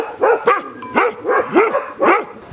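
A Bhote, a Himalayan herding dog kept at mobile livestock sheds, barks loud and close in a run of about six sharp barks with short gaps between them.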